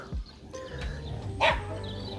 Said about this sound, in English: There's quite a few people have brought dogs with them here, and they're all running around and trying to get the others to play. A bit of growling going on.